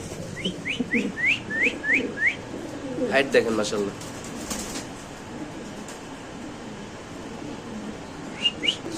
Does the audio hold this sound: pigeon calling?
yes